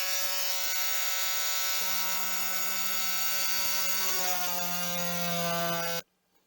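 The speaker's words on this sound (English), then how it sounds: "Now we'll use our multi-tool. These are a wonderful invention. They just make cutting things so much easier." Oscillating multi-tool cutting 20mm electrical conduit, a loud, steady high-pitched buzzing whine whose pitch shifts slightly as the blade bites, running about six seconds before stopping abruptly.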